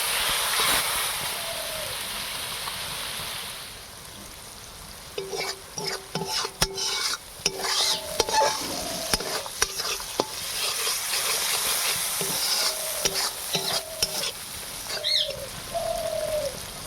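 Spice paste is stir-fried in a pan for a Bengali dish of taro greens with prawns, with soft sizzling and repeated scraping stirs close by, while doves coo in the background.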